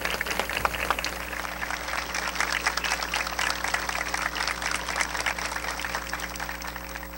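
Sustained round of applause from a gathering honouring accident victims after a minute of silence, steady and dense clapping throughout, with a constant low hum underneath.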